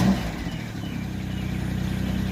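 A 24-year-old car's engine runs close by with a rough, pulsing low rumble that stays steady throughout the short stretch, with no voices heard.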